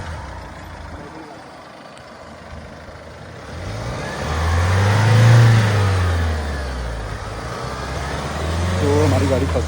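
Off-road car stuck in mud, its engine revving hard in two loud swelling surges over a steady rumble, close by.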